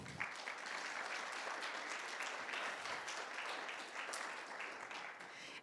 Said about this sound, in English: So let's give that team a round of applause